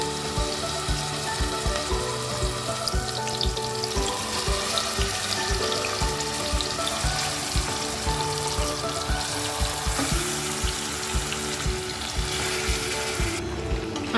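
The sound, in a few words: marinated mutton frying in hot oil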